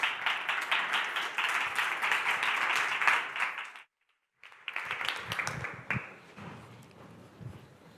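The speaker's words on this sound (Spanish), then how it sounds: "os pido un fuerte aplauso para ellos" An audience at a podcasting conference applauds a panel taking the stage, dense steady clapping that cuts off briefly, then resumes more sparsely with scattered claps and thumps before fading.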